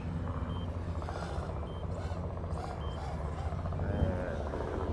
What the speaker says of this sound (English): All right, we got a helicopter coming.